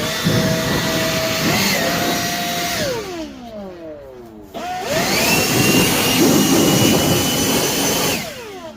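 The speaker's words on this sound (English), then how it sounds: "you just saw I blew off all the dust" Compressed air blasting sanding dust off a Honda CRX body panel worked with Bondo, a loud steady hiss in two long bursts with a brief pause between and a pitch dip as each burst starts and stops.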